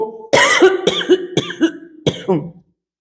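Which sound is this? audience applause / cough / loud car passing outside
cough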